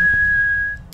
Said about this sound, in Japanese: あ、口笛でもいいんだ。